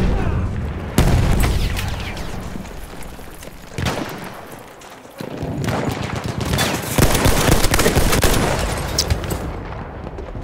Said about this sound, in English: Apparently, Fensterbrett will survive through all my gunshots and then shoot me with the one gun that's really getting on my nerves now.